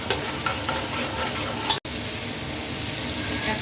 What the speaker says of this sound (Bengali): আমি একটু কষিয়ে নেব এটা।